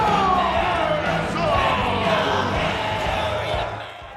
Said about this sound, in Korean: 사람들의 환호를 받으며 무대를 빠져나가는 랜디